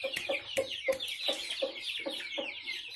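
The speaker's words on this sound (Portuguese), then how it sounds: "O barulho que ela faz quando ela pula." Clucks from a giant Índio Gigante hen, loud, close and repeated in a quick uneven rhythm, about eight calls over a few seconds, with no voices.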